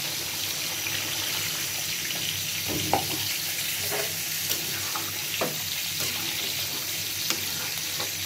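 A splash of broth poured into a pan of fish dopiaza, the oil sizzling in a steady hiss with occasional sharp pops and stirring clinks of a spoon against the pan.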